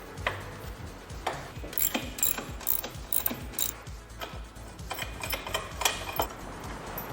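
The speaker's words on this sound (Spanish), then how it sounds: "Comenzamos aflojando toda la tornillería." Ratchet clicking in quick, rapid bursts close by while loosening the axle nut and chain tensioner nuts on a motorcycle, the rhythmic pawl ticks repeating with brief pauses.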